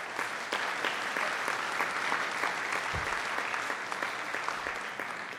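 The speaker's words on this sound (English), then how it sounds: "I think we can applaud them." An audience applauding at a cryptography conference rump session, sustained even clapping from a seated crowd throughout, with a low thump near the middle.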